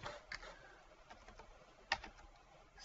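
Quiet, scattered keystrokes on a computer keyboard as numeric values are entered into a CAD program's equation fields, with a sharper key press near the end.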